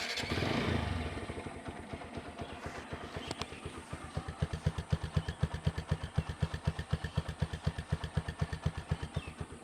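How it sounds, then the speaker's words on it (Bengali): A TVS Apache RTR 4V motorcycle engine starts and settles into a steady, rhythmic idle, its close, even thumping pulses filling the rest of the clip. "এবার আপনাদেরকে গাড়ির ইঞ্জিনের সাউন্ডটা শোনানোর চেষ্টা করি।"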